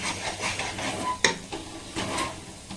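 Thickening milk and milk powder for palkova stirred over a high flame, a steady scraping swirl with a soft sizzle and one sharp utensil clink partway through.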